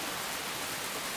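Steady rain in the visual novel Dies irae, an even, dense hiss of falling water that holds at a constant level with no breaks and no voices.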